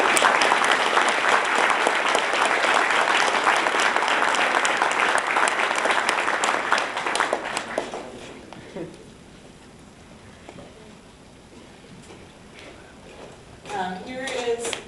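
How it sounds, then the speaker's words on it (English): Audience applause for Dr. Geelhoed after a public health talk, loud sustained clapping from a crowd that fades after about eight seconds into quieter room noise with brief talking at the end. "Can we give another round of applause for Dr. Geelhoed?"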